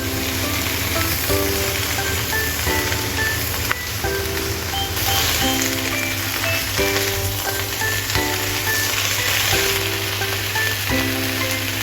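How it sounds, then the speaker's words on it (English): Steady sizzling and crackling of cabbage being stir-fried in a hot wok, continuous and close, with a faint high whine and some background tones. "toss in the cabbage and continue stir-frying."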